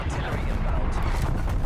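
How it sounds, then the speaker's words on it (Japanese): Enemy airstrike explosions in Call of Duty: Black Ops Cold War form a dense, continuous low rumble of blasts and gunfire, loud and close, with a voice talking over it. "敵の空爆出てきた"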